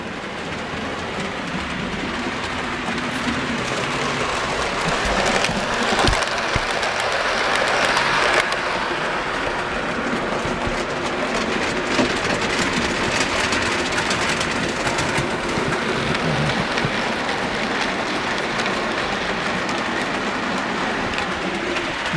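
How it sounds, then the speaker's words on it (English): A Hornby model railway passenger train runs on track with a continuous, even rolling rumble and faint rhythmic clicking, with birds chirping faintly in the background. "that's the Hornby passenger train set that I bought"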